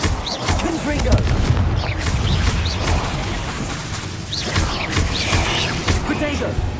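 Explosive Confringo spell blasts from Hogwarts Legacy, with booming, crackling impacts over dense, loud combat noise throughout, and voices shouting now and then.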